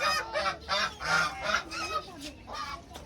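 Ducks being fed give a run of about eight loud, rhythmic honking quacks, close and insistent, one after another.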